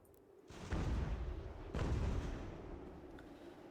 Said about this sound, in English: Cannons firing into all three of these divisions with canister